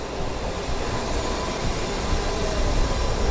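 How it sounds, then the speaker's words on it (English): Train at Kyoto station in the video game Persona 3 FES, a continuous loud rumbling roar of rolling rail cars with a broad steady hiss, no talk. "Is that a Kyoto train station?"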